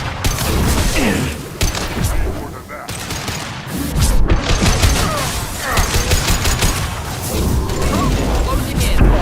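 A Mass Effect incineration cannon fires amid loud combat: dense crackling bursts, booms and mechanical clatter form a continuous, intense barrage, with a voice talking over parts of it.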